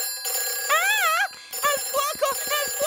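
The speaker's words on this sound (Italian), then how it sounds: "Quello è il telefono delle emergenze." Emergency telephone in a cartoon fire station rings in warbling electronic bursts, one long trill then several shorter pulses, loud and close with no talk over it.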